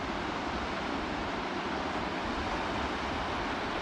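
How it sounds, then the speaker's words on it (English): Ocean waves wash steadily onto a bush-lined shore at sunrise, a constant faint hiss of surf with some wind and no voices. "Got the sound of the waves,"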